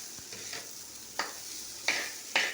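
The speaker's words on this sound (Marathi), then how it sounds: "आपण आता छान असे तांदूळ ना तेलामध्ये ते भाजून घेऊया." Rice stir-fried in hot oil with masala gives a soft, steady sizzle, broken by several sharp scraping strokes of a spoon against the pan, with no talking.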